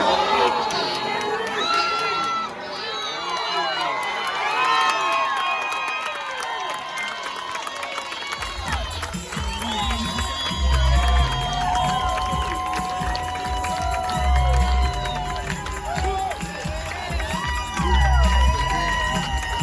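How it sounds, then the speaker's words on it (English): A high school crowd at a baseball game against Taravella cheers and shouts loudly after a grand slam, with children yelling and voices whooping in a sustained roar, and low thumping noises joining later. "just to get a glimpse of that crowd, let's show everybody the grand slam that they hit the other night against Taravella"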